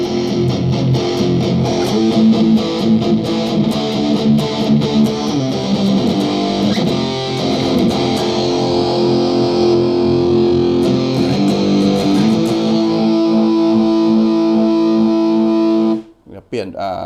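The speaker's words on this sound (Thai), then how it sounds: "เปลี่ยนเป็นเสียงเสียงแตกดีกว่าเนาะ" Heavily distorted electric guitar plays sustained chords and riffs with a modern metal tone, loud and continuous, then cuts off abruptly near the end.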